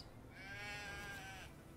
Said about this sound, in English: As a result to me just trying to bring my poor sheep home.